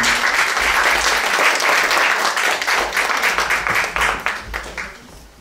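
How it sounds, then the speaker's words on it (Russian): A hall audience breaks into loud, dense applause for an introduced guest, holding strong for several seconds before thinning into scattered claps and fading out. "ваш аплодисмент"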